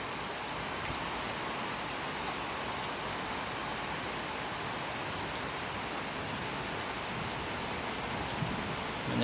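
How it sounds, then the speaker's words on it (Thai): Heavy rain pours down steadily in Laos, a dense, even hiss of falling water that stays loud and unbroken throughout with no voices. "บรรยากาศบ้านเฮาพี่น้องเลยฝนตกหน้านอนได้แบบนี้นะ"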